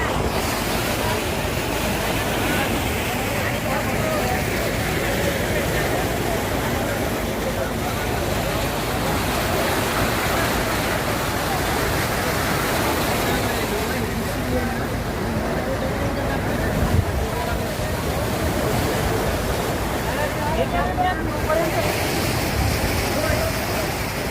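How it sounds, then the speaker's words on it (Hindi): Monsoon floodwater surges over and tears apart a road, a loud, steady roar of rushing water with wind buffeting the microphone throughout. "पानी की इतनी ताकत है कि इस रास्ते को किस तरह से तोड़ दिया जा रहा है, पानी से ये किस तरह रास्ता उखड़ रहा है"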